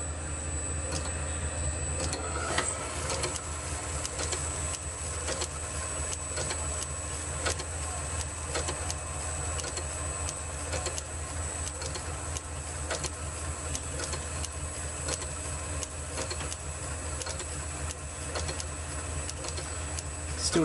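Metal plate being bored out on a lathe during work on a Sturmey Archer K hub, a steady close machining whir with a low motor hum running continuously and alone.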